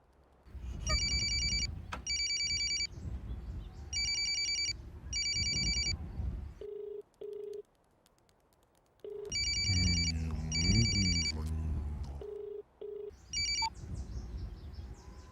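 A telephone rings in repeated electronic bursts, loud and close, with short pauses between rings and a brief low tone in the gaps.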